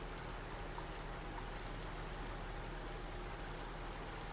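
Forest ambience in the Stronghold 3 map editor game: a steady, faint bed of chirping crickets and insects that runs unbroken throughout with no voices.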